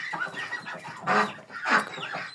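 Chickens and roosters of three colours on a small farm, by a henhouse, clucking and crowing in a few short rising bursts close by, with soft background clucks between them and no talking.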